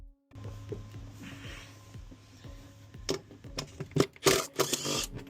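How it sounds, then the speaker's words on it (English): Compressed air is blasted through the fuel supply pipe of an Irizar coach from inside the cab. A ticking mechanical idle gives way to loud, irregular hissing bursts in the second half. "We're going to blow the fuel supply pipe out now through the cab."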